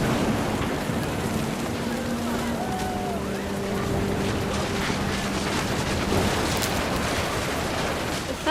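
Steady rain pours down over a rumbling outdoor scene in the video game What Remains of Edith Finch, a dense continuous wash with low drones running beneath.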